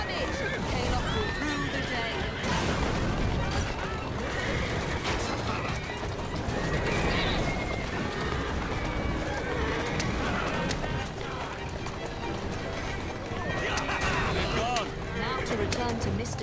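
Horse-drawn carriages race through the streets in the video game Assassin's Creed Syndicate: steady clattering hooves, rumbling wheels and repeated horse whinnies, with characters talking over the busy mix.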